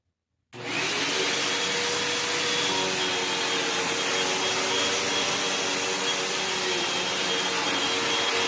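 Hoover Elite Rewind Plus upright vacuum cleaner switched on and running over carpet on its medium setting, a loud, steady roar that starts abruptly and holds for the rest of the stretch with no talking.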